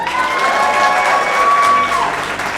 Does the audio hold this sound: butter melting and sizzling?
no